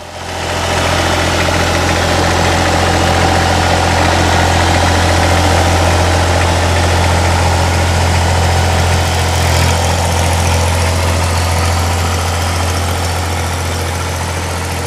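A restored red 1957 Ferguson tractor engine idling, a loud, steady low throb with a constant mechanical drone that holds evenly throughout, near and alone.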